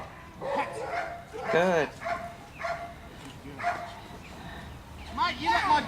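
A security dog doing bite-work against a helper in a lightweight hidden bite suit barks and yips in loud, uneven bursts, close by, with someone talking over and between the barks.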